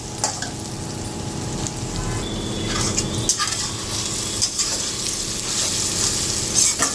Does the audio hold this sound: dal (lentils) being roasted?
yes